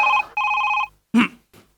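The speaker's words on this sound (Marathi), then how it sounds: "आला वासाडीचा फोन आला" A telephone rings with two loud, bright electronic trills close by. A brief voice follows.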